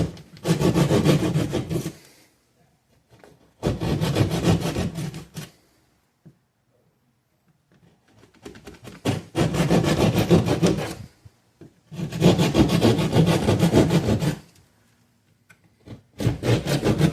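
Hand-held sheetrock saw cutting a hole in drywall during a home Tesla charger installation, heard as bursts of rasping back-and-forth strokes of about two seconds each, separated by quiet pauses, close and loud with no talk.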